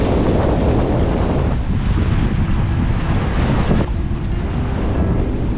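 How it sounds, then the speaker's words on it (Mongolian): Strong wind gusts on a lake shore in Khövsgöl, Mongolia, a loud, constant roar buffeting the microphone, with lapping water mixed into the rush and no voices. "Гадаа бүр маш их салхитай байна."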